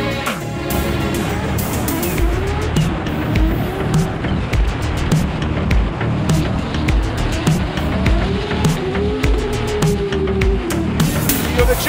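Drift cars competing at Formula Drift Long Beach, engines roaring steadily with rising and falling revs and occasional tire squeal, loud and continuous throughout.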